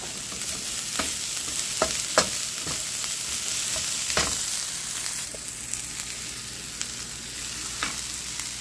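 Olive oil frying in a pan for eggs and biscuits, a steady broadband sizzle running throughout with scattered sharp crackles and pops, close and continuous with no talk.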